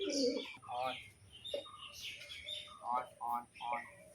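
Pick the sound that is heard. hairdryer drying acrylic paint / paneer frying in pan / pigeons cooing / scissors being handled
pigeons cooing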